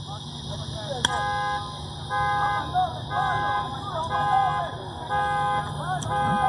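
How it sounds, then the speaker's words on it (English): A car alarm cycles outside a minor-league baseball game, repeating steady electronic honks in short, evenly spaced bursts with brief gaps, loud and persistent beneath ongoing play-by-play commentary and ballpark noise. "Apologize for the car alarm. Hopefully we'll have that resolved quickly."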